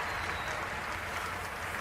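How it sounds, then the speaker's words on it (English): A brief, even patter of applause rises from the audience at a PlayStation E3 showcase, heard alone and fairly distant. "Take that smattering of applause and get off stage."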